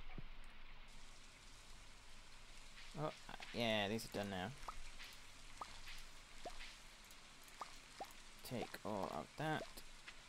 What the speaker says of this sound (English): That sounds like very heavy rain.